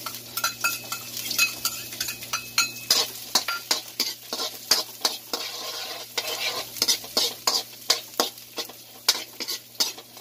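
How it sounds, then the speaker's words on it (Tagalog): Garlic frying in olive oil sizzles steadily in a pan while a utensil stirs and scrapes in rhythmic clicks throughout, close and busy, with no talking. "Ngayon, ilalagay ko ng ating garlic."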